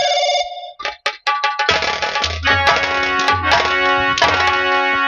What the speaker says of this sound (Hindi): तेरे बाप का फोन आ रहा है।